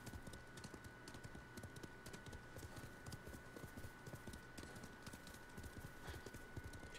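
Horse hooves clip-clopping at a quick, steady rhythm while riding in Ghost of Tsushima, close and continuous with no break.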